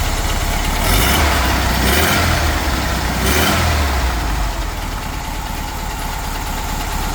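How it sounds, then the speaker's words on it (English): A 1959 vintage bus engine idles close by with a loud, steady rumble, swelling slightly a few times early on before settling into an even, continuous purr. "the 59 bus is alive and running and purrs like a kitten"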